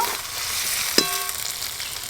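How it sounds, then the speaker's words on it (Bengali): Ginger, garlic and onion fry in a pan for a cabbage and egg dish, giving a steady close sizzle with a single sharp clink of a utensil partway through. No one speaks. "আদা রসুন পেঁয়াজ তো খুব ভালো করে ভাজা ভাজা করে নিয়েছি"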